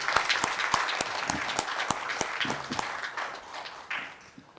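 Audience applause at a ceremony marking the 50th anniversary of Seoul National University's consolidation, with dense clapping from a seated crowd, fairly near and steady, with scattered sharper claps, tapering toward the end.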